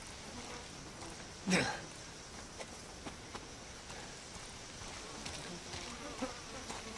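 Flies buzz in the Resident Evil 7 Biohazard PC game, a steady insect drone that runs throughout, with one louder knock near the start and faint scattered ticks.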